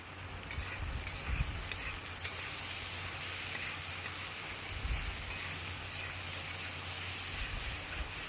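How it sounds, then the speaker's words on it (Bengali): Mutton fat and spices sizzling in a pan while being sautéed for ghugni, a steady soft crackle with faint stirring ticks, heard alone without talk. "লবণ দিয়ে এবার ভালো করে কষিয়ে নিতে হবে"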